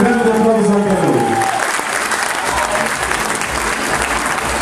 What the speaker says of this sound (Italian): e a Samuele, grande applauso anche a lui.